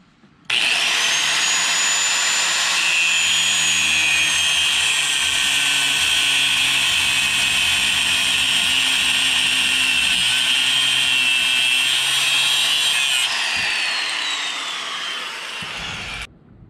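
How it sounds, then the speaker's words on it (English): A power tool cuts through a battery terminal bolt on a 12-valve 5-speed Cummins truck, a loud, steady high-pitched grinding whine that holds for about fifteen seconds, then winds down and stops. "I'm gonna take and cut right here, cut that bolt out"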